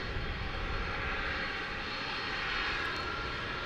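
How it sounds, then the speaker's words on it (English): Jet engines of a Turkish Airlines Boeing 787 Dreamliner at DFW Airport at night, a continuous broad roar that holds steady throughout, distant but full, with no talking. "Turkish, going back to Istanbul, 7879 Dreamliner is now on the radar."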